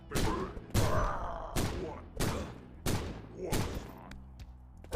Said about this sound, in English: Bloody shotgun.